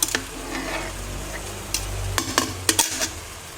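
Chicken sizzles with curry paste in a pan for an Isan-style curry, with a steady close frying hiss broken by scraping spatula strokes against the pan.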